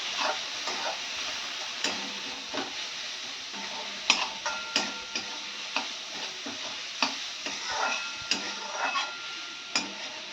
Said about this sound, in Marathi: हे चांगलं परतून घेणार आहोत सगळं एक जीव कांदा आणि टोमॅटो एक जीव होईपर्यंत आपण हे मिश्रण परतून घेणार आहोत